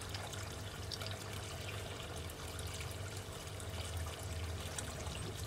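Water from the pipe of a balcony NFT hydroponics system trickles back down into its tank, a soft continuous pouring and dribbling heard close but very quiet, with no talking.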